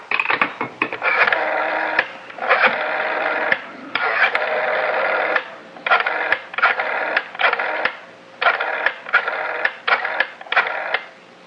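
A telephone being dialed as a sound effect in a radio mystery drama: a run of loud, close mechanical whirring bursts, roughly a dozen of them separated by short gaps, with no voices heard.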